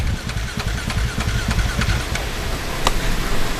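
A Dakar Rally motorcycle engine is cranked over in an attempt to start it: loud, rapid, uneven mechanical chugging pulses run throughout and never settle into a steady idle.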